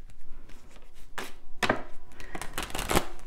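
Playing cards are shuffled by hand in several quick irregular bursts of riffling and slapping, close and fairly soft, with no voices.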